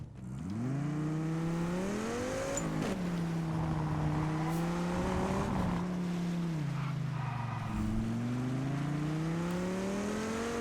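Race car engine during a race in Test Drive Unlimited Solar Crown, a steady loud drone whose pitch climbs and drops as the car accelerates and shifts, with no talking.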